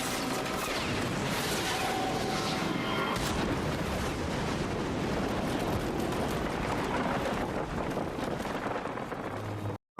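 Dense, continuous roar of blasts and rumbling booms with crackling debris, sustained loudly throughout, then cutting off abruptly at the end.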